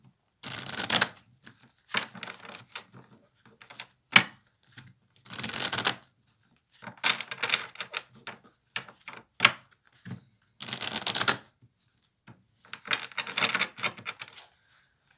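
Angel cards shuffled by hand during an intuitive reading, in a series of short riffling and patting bursts separated by brief pauses, close and fairly quiet.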